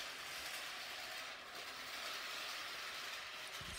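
Small model train running on a track, a steady even whir with a faint hiss, quiet and continuous with no talk.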